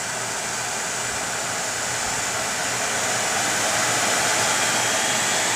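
A projector's cooling fan runs at full speed, giving a loud, steady airy rush that swells slightly over several seconds, with no talking.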